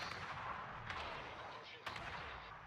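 Naval gunfire in the World of Warships video game, with dense rumbling cannon blasts and a sharp louder shot near the end, over a continuous low battle roar.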